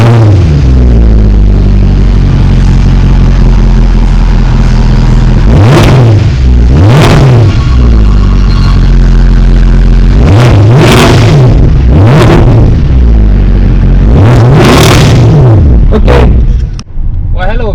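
Mercedes-Benz E63 AMG engine idling loud and close, then revved repeatedly in several sharp rising and falling blips over a deep, continuous rumble, with voices talking over it.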